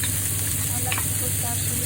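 Garlic and onion sautéing in a pan for spaghetti sauce, a steady close sizzle with a few light stirring scrapes.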